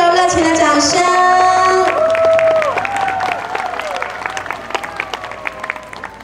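Wedding guests applaud the bride's father and the groom at a reception. Music fades out and scattered, lively clapping follows.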